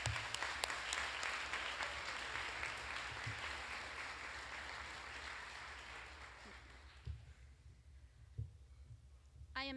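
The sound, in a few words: audience applause at graduation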